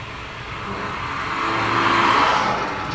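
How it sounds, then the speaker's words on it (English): A car engine drives and builds steadily, swelling louder midway with a broad roaring revving tone and road noise, heard alone without talk. "What a terrible sounding car."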